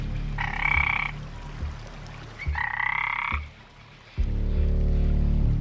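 Frog croaking, caught by a fishing spider; two loud rasping croak bursts close by, separated by quieter stretches, then a lower sustained drone.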